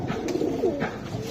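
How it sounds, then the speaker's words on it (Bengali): Gorra pigeons coo at a pigeon sale, a few soft throaty coos close by over a faint background murmur. "এক জোড়া গররা কবুতর"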